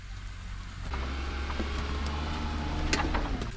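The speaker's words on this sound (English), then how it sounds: "I want to make a little spot for me to be able to turn the truck around." A modified off-road kei truck drives and turns around at an abandoned Alaskan homestead, a steady low engine drone running throughout with brief higher whines and small clunks mixed in, close and moderately loud.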